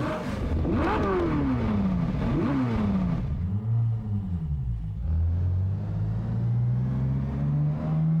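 A Ferrari California in an open-world racing video game pulls away, its engine revving up through rising gear sweeps and then settling into a steady, loud drone.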